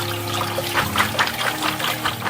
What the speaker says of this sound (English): you can just run some water through them now and that'll get them good rinsed off